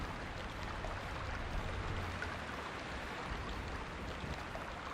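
A flowing stream in the Myst video game gives a soft, continuous watery rush, steady and fairly faint, with no talking over it.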